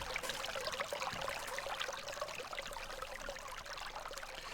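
Hot water from a video game is poured into a pail, a steady, soft, continuous splashing and trickling stream that runs quietly and evenly throughout with no voices.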